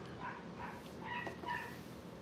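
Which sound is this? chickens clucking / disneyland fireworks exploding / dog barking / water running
dog barking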